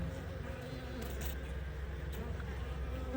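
Honey bees buzz around a hive entrance, a continuous close, droning hum of many insects with a steady low pulse and no speech.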